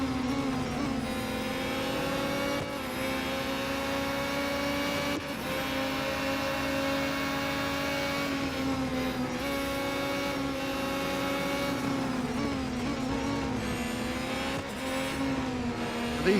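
Racing cars in Real Racing 3 roar past in a continuous engine drone that rises and falls as they overtake, loud and steady with no talking.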